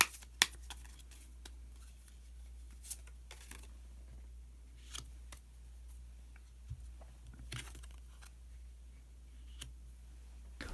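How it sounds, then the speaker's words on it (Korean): Tarot cards are shuffled and drawn in a quiet room, with scattered soft ticks, flicks and brief card snaps at irregular intervals over a faint low hum. "카드 한 장을 더 뽑고"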